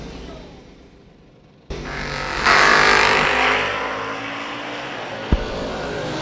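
Door car drag racing with an Oldsmobile and an 87 Camaro at a drag strip: a muffled low rumble jumps into a loud roaring engine burst that holds and tapers, with a sharp crack near the end.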